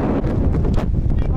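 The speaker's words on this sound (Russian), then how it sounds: "Вот, также ветер." Steady wind buffeting a microphone outdoors at Lake Shalkar near Uralsk, a constant low rumble with gusty rises throughout.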